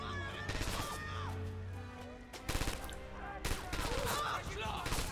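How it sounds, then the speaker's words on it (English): Dense battlefield gunfire in the Red Orchestra 2 Stalingrad game: a continuous rattle of rifle and machine-gun fire with sharp loud bursts, under shouted voices. "Enemy fire! Stop! Give me some cover fire"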